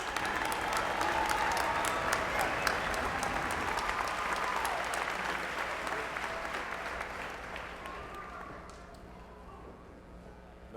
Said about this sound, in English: Let's give a round of applause for all three of our recipients again,